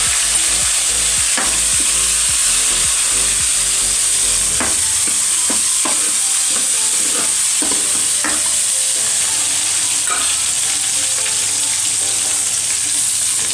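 Tomatoes added to a hot pan for Kathiyawadi mung bean curry, sizzling steadily and loudly throughout, with a spoon scraping and stirring in irregular strokes close by.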